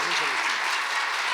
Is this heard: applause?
yes